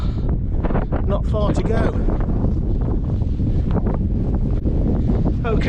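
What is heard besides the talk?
wind on a hill summit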